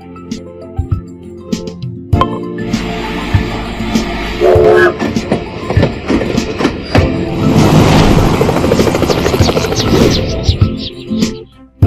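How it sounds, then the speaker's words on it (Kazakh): A train rumbles past with rhythmic clattering wheels and a horn blast, loud and close, building to a heavy roar before fading. "Поезд."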